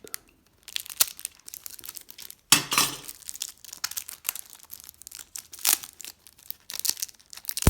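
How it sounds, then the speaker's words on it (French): Box cutter slicing open packaging on a board game box, with sharp scraping cuts, a loud tearing rip, and crinkling plastic in irregular close bursts between quiet gaps. "un petit coup de cutter propre, ça fera le job"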